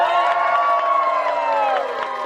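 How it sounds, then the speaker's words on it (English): A theatre audience at the Edinburgh Fringe cheers and whoops loudly after a play, with sustained shouting voices. Little distinct clapping comes through. "Please round of applause for our fantastic play!"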